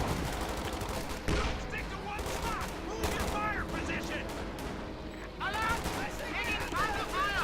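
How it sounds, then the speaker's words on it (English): Panther tank in Company of Heroes 2 engaging infantry with its main gun and machine guns: dense, continuous battle gunfire and blasts under steady commentary talk. "Panther engaging riflemen, firing main gun and machine guns."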